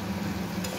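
Masala sautéed and stirred in a pan, a soft steady sizzle with light scraping, close and brief.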